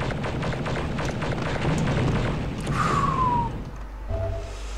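Explosions go off in the retro shooter Star Wars: Dark Forces: a dense rumbling blast sequence with a falling whistle, then a low lingering hum as it fades, without talk.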